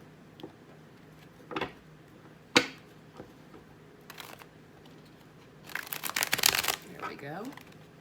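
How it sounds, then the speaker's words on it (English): Crisp bursts of card shuffling, a couple of short riffles followed by a longer flurry of flicking and snapping cards, close up and fairly loud. "let's do one more shuffle."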